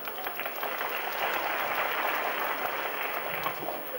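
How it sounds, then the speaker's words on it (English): Crowd at the 1988 Badminton Grand Prix women's singles final clapping in a sustained, even burst of applause that fills the hall for several seconds. "And the crowd applaud."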